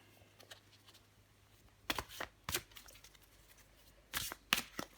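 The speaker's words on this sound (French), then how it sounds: "Je vais encore tirer une carte pour vous" Tarot cards being shuffled before one is drawn, a few quiet, brief riffling and flicking bursts against a near-silent room.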